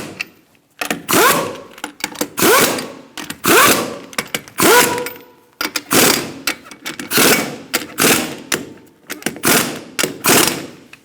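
Wheel lug nuts on a 2002-2006 Honda CR-V are snugged with a power tool in repeated short ratcheting buzzes, about a dozen bursts in a loose rhythm with brief gaps, close and fairly loud.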